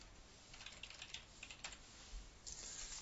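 Quick, close taps on a computer keyboard as a Windows file path is typed, a steady run of soft clicks with a few louder keystrokes and no talk.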